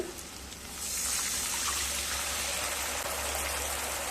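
A small splash of water poured into a hot pan over half-spoonfuls of ground cumin, turmeric and chilli powder sets off a sudden, steady hissing sizzle that holds close and even to the end, with no talking.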